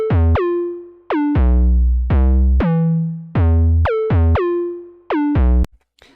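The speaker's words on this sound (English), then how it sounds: "this is just a quick bass line that I made. It sounds like this without any processing." Unprocessed Serum synth bass line: short, punchy notes with a sharp pitch drop at each onset, played in a choppy rhythm with a few longer held low tones, loud and dry with no voices.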